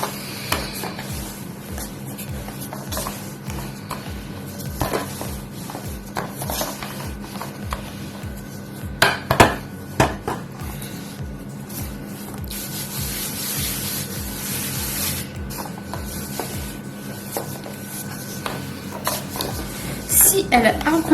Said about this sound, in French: Et là, nous allons aplatir la pâte.